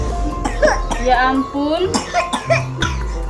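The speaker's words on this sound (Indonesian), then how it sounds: "adiknya nangis batuk pilek ini teman-teman" A young child with a cold and fever coughs in short, harsh bursts amid crying, with an adult's voice talking over it close by.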